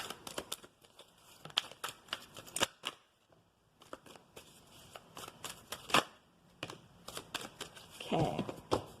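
Oracle cards shuffle in quick, crisp riffles and flicks, close and fairly quiet, with bursts of rapid slapping separated by short pauses.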